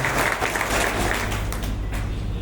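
Loud, dense applause from an audience at a book release event, steady and continuous throughout with a low hum underneath.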